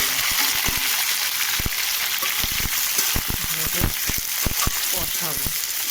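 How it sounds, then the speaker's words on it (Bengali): Giant freshwater prawn legs fry in hot oil seasoned with cumin seeds, giving a loud, steady sizzle throughout, broken by frequent sharp clicks and scrapes of stirring. "তেলটা গরম হয়ে গেছে, আমি গলদা চিংড়ি পাগুলো ছেড়ে দিলাম।"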